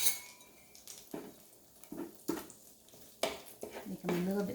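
Metal utensil clinks and scrapes against a pan while corned beef omelettes cook, a few sharp clatters spaced across the moment with faint frying underneath and no speech.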